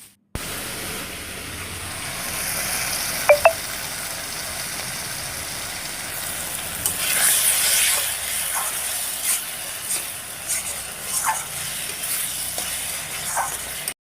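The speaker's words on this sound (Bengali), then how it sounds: "এটা ওই নিহারে মাছের মশলাটাই কষছি।" Fish masala with onion, ginger and garlic frying in a pan, a soft steady sizzle and hiss with a few faint clinks of stirring.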